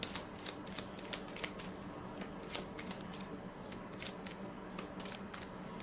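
Tarot cards being shuffled in a rapid, steady run of crisp riffling flicks, close and fairly quiet, with no voice over it.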